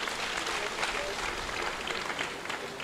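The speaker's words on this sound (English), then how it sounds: "Can you clap for him?" An audience at a university's 50th anniversary celebration claps, a dense, steady wash of applause from a large crowd that holds evenly throughout, with no voices on top.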